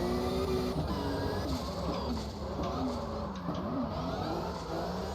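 A drift car engine in CarX Drift Racing 2 drones and revs close up, pitch wavering up and down as it shifts and accelerates, with a synthetic, game-like tone.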